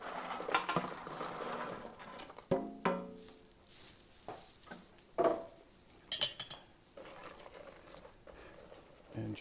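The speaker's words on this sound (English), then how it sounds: "And just stir that until it starts to get a little milky looking" Pecans stirred into a bubbling Southern praline candy mixture in a pot, with irregular scraping and clinking strokes of a spoon and occasional soft splashes, moderately close.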